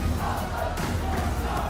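Spectators at a Tekken 8 esports tournament group stage at the Esports World Cup 2025 keep up a dense, loud crowd roar of cheering and shouting that never lets up.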